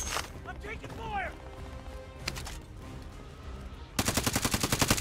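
Rapid automatic gunfire from Call of Duty Warzone, a loud close burst at the end after scattered shots and game noise, with a voice talking over the action.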